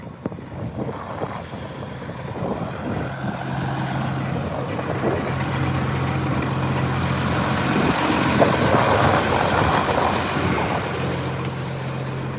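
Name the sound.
tractor engine running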